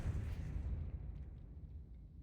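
A Depulso spell cast in the Hogwarts Legacy video game, a single heavy, booming burst that decays into a low rumble over a couple of seconds.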